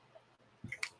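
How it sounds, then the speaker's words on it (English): Small scissors cut paper in a few quick, close snips, a soft thud followed by crisp clicking blade sounds in an otherwise quiet room. "Let's use our little scissors."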